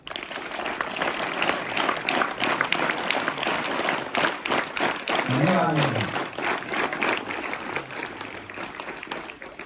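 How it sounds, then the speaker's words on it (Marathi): Students clapping at a school event, a sustained round of applause from a crowd filling the whole stretch, dense and fairly close, with a voice briefly audible over it. "त्यासाठी स्वतःसाठी एकदा टाळ्या वाजवल्या"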